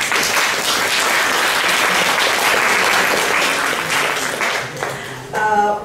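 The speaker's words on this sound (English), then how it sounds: "I would like to give a big applause" Loud sustained audience applause at an academic event at Chulalongkorn University, dense clapping that tapers off near the end as a brief tone sounds.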